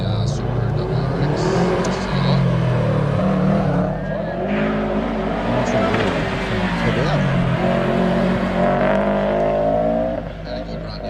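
A Subaru WRX rally car rounds a hairpin at a lakeside hillclimb, its engine note rising and falling steadily through the turn, loud and continuous, with a commentator talking over it throughout.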